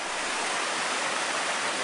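A waterfall pours in a steady, dense, full roar, constant and close, with no other sounds.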